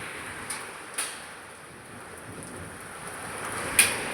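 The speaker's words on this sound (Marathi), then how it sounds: "बघा ना किती पाऊस पडत आहे." Heavy rain mixed with large hailstones falls steadily as a soft, even hiss, with a few sharp knocks standing out, likely hail strikes, at a moderate distance.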